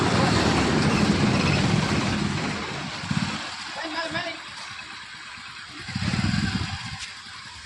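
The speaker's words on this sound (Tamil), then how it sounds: "பைக்கில் வந்து கிளம்ப போகிறேன்" A motorcycle engine rumbles and revs nearby, rising and falling in loudness as it rides, with a voice talking intermittently over it.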